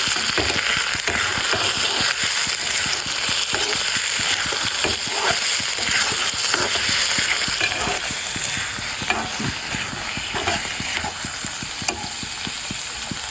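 Spiced turnip mash with turmeric and coriander powder being stirred in a hot pan, a constant sizzle under quick, close scraping strokes of the spoon, steady and loud with no voices.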